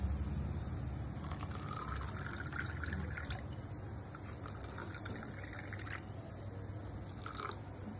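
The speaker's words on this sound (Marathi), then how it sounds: "पाणी घालूया." Water trickles and splashes steadily into a bowl of raw mango pulp for panha, a soft continuous pouring with a few brighter splashes, close by and without talk.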